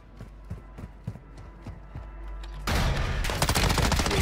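Gunfire in the Call of Duty DMZ video game: a few spaced, moderately distant shots, then loud rapid automatic fire bursting in close up near the end.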